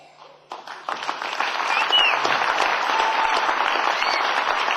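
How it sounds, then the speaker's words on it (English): Audience applauding at a Canadian Nationals Hall of Fame induction ceremony, a dense, sustained wash of clapping that swells in after a quiet start and holds steady and loud. "Let's give another big round of applause, please."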